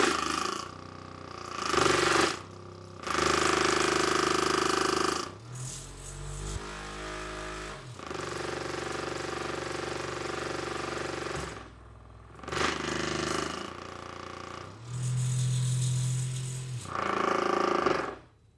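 A B2 Audio Rampage8 subwoofer driven hard with a low test tone, loud buzzing and rattling bursts that cut in and out over nearly twenty seconds, with no talk.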